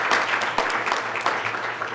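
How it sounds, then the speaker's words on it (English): A crowd of tech leaders at a San Francisco civic launch event claps loudly and steadily for two seconds, dense overlapping hand claps close by. "yes, we should clap."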